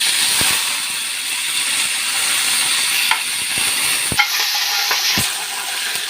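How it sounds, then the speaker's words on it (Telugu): Hot oil sizzles loudly and continuously, with cumin, mustard seeds, dried red chillies and curry leaves crackling as tempering, and occasional clinks and scrapes of a spoon against the pan. "చట్నీలోకి పోపు చేద్దామండి ఆయిల్ వేసుకుంటున్నాం"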